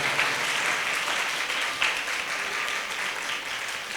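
Steady, dense applause from an audience at the closing session of a Jain study camp in Muzaffarnagar, a continuous wash of many hands clapping at once, fairly loud and even throughout with no voices standing out.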